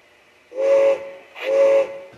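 A Bachmann 1:20.3 scale two-truck Climax garden-railway steam locomotive model, DC powered and running on rollers, gives two clear whistle blasts, each about half a second long, with a short gap between them and no one talking.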